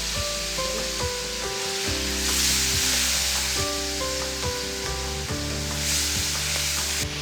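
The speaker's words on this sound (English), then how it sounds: "Cook pork very well" Minced pork frying in a pan for a Lao salad, giving a loud, steady close-up sizzle with faint clinks of stirring against the pan throughout.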